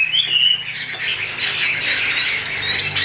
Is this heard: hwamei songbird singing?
yes